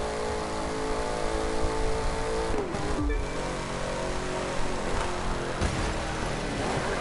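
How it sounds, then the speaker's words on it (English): Ford Mustang engine roaring steadily in The Crew 2 racing game, a loud continuous drone with a brief dip around the middle before picking back up, no talk over it. "this Mustang is so loud"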